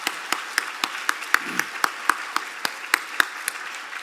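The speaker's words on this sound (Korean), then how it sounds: "한 번 더 격려의 박수 한번 부탁드리겠습니다." A church congregation applauds the choir in encouragement: sparse, individual hand claps with a distinct rhythm, several people clapping loosely rather than a full ovation, moderately close.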